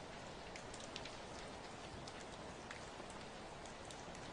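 Steady rain falling on surfaces, a dense continuous hiss with scattered droplet ticks, even and unbroken throughout, with no voices.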